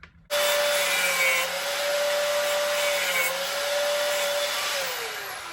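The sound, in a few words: grinder cutting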